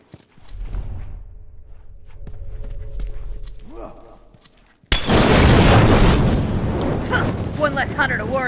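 A bomb in The Last of Us Remastered goes off abruptly after a stretch of quieter sounds, and a loud, sustained roaring blast with crackling debris fills the rest of the clip.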